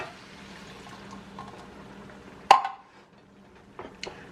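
A cup of water is poured into ground beef cooking in a pan, giving a sudden loud splash and hiss, then quieter bubbling and a few small clinks, with a faint sizzle beforehand.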